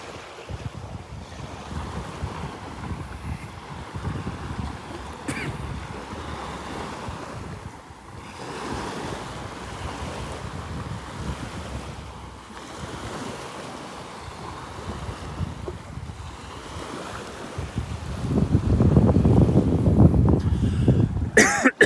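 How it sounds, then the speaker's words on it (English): A north breeze blows over the beach surf at Delnor-Wiggins: steady wind rush and rolling waves, with wind buffeting the microphone and a louder wash of surf toward the end. "Got a pretty good breeze coming out of the north here this morning."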